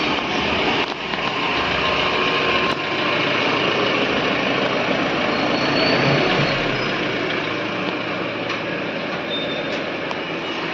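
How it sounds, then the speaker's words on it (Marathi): A pickup truck's engine drones in a steady, fairly loud low rumble as it reverses and turns, holding an even idle-like tone throughout with no voices. "मग थोडं गाडी पाठीमागे घेऊन टर्न मारून मग गाडी समोर घेऊया।"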